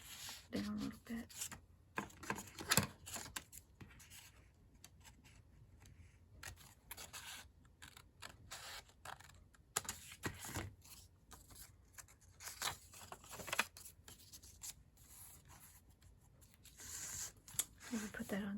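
Scissors cutting paper down for a junk journal, close and quiet, a run of irregular crisp snips and rustles spread across the whole stretch, with soft talking in places.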